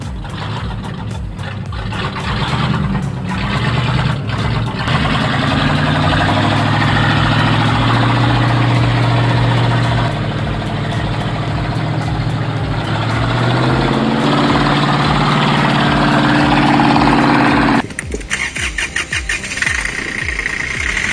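A ZIL truck's engine labors as it crawls off-road through deep ditches and trenches, a loud, close, rumbling drone that surges and strains for most of the stretch before abruptly shifting to a thinner, choppier sound near the end.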